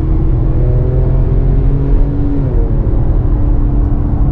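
Heard from inside with the windows shut, a Porsche 911 with a Fister exhaust rumbles and revs in traffic, a loud steady low-pitched engine drone with slight swells in pitch.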